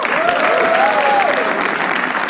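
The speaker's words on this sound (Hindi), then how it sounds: "गाइस शाश्वत के लिए ताली बजाओ एक बार" Loud, steady audience applause fills a comedy show venue, dense clapping sustained throughout with a brief whistle-like tone rising and falling over it.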